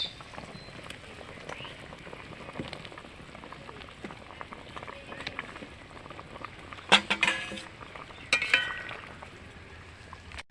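A pot of fish curry with potato and brinjal bubbles at a low simmer, soft steady burbling close by, with a few sharp clinks of utensils against the pot near the end.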